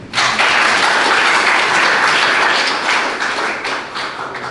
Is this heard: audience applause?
yes